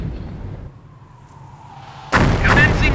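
An artillery barrage in the World War II strategy game Company of Heroes: a low rumble and faint tone first, then sudden loud booming shell blasts that roll on close and heavy to the end, with no talking.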